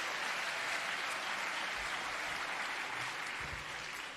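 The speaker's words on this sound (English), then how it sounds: "Let's just give a round of applause to our choir." An audience at a live choir performance in Dubbo Regional Theatre applauds steadily, a dense, continuous wash of clapping from a large crowd that holds throughout and tapers slightly at the end.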